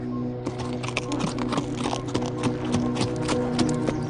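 Horse hooves clip-clopping as a drama sound effect, a brisk steady run of close, distinct knocks over a humming background, with no voices.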